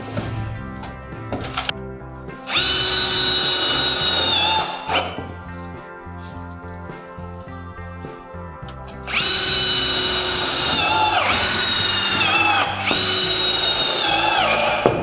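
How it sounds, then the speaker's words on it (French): A power drill drives screws into corrugated steel tile-effect roof panels on a chalet roof, loud, close whining bursts of several seconds each, separated by quieter mechanical clatter. "Et on essaye de visser toutes les ondes."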